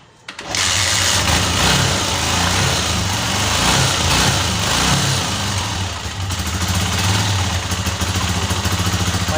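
A motorcycle engine with a loose part starts and then idles roughly, loud and close, its steady throb broken by uneven stumbles and misfires throughout.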